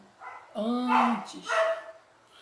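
Dog barking and yipping in short bursts indoors, close and moderately loud, mixed with people talking in Portuguese.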